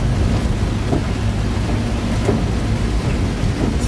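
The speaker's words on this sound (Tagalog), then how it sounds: "kusog na yung ulan" Steady, dense rain pours down in a constant wash of noise, with faint low rumbles beneath and no voices.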